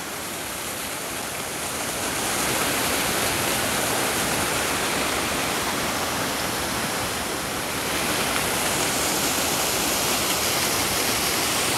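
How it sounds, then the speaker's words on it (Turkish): A waterfall roars in a steady, unbroken wash of rushing water, loud and close, swelling slightly after the first two seconds, with no one speaking. "Bakın asıl şelale şurada."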